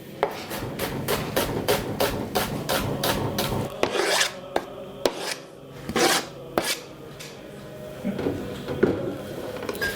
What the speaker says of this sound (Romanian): Acum tăiem morcovul.